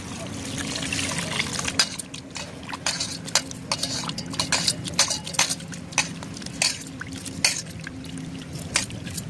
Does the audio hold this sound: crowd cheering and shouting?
no